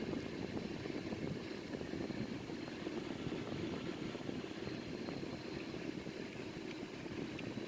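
A Sukhoi Su-30M2 jet in a flight simulator taxies with a steady, continuous engine roar and rumble at constant level, with no speech heard.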